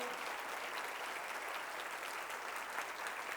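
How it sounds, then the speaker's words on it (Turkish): A large audience at a December success academy event claps steadily and densely throughout, a continuous wash of applause heard from within the hall with no pauses. "Ne kadar gür alkışlandığınızı görebilir miyim?"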